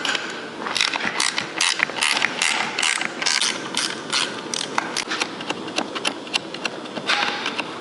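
A nut on a kayak pedal drive being turned loose, a close, steady run of rapid ratcheting clicks and small mechanical rattles with no talk.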